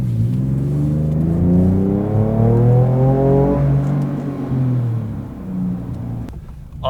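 A Ford Raptor fitted with a new exhaust mid pipe revs close by, a deep rumbling engine swelling upward in pitch and then easing back down to idle, loud and without voices.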